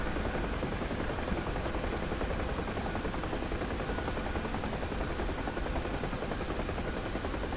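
An armed Huey helicopter in the DCS flight simulator drones with a constant, close, dense roar of engine and rotor that never changes or pauses.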